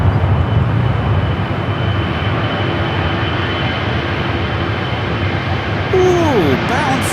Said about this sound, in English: We do have the Qantas A330 in the One World livery heading here for north side